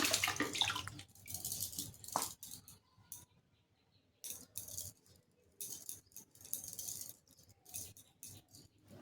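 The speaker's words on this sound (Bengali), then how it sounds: "আর তারপর আমি এখন হাতটা একটু জল দিয়ে ধুয়ে নিলাম" Hands are rinsed under running tap water in a home puja setting, splashing and trickling in bursts close by, with brief pauses between pours.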